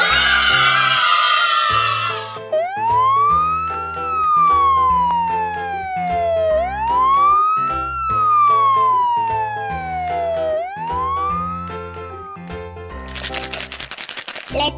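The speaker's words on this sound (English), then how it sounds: "Wow, it's a fire truck!" A loud wailing fire truck siren sweeps up and down in long slow cycles over bright toy-like music, with a burst of noisy clatter at each end.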